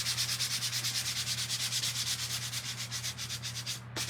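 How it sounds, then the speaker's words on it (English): A painted surface is hand-sanded with steady, rhythmic back-and-forth rasping strokes, close and moderately loud over a constant low electrical hum, with a brief clunk near the end. "So let me sand this just a little"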